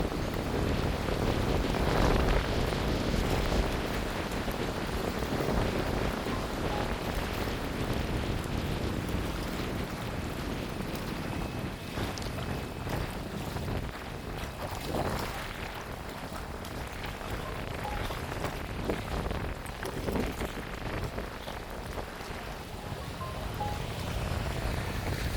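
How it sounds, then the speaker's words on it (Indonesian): Strong wind sweeps across Lake Sarangan on a cold, overcast day, a constant loud roar buffeting the microphone, with waves washing faintly beneath it. "anginnya bisa kita lihat sangat kencang sekali nih di sini"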